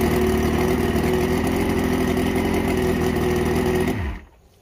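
A Mercury outboard engine idles steadily with a low, even rumble, then cuts off abruptly near the end, leaving near silence.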